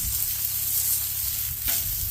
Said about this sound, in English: Got that nice caramelization and rendering of that fat cap right there on our strip.